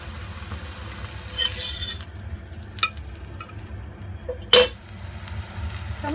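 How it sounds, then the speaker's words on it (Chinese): Eggs for an oyster omelette frying in a pan with oil, a continuous close sizzle broken by occasional utensil clicks and one sharp clatter, with no voices. "咁而家繼續煎埋其他嗰啲雞蛋噶啦，"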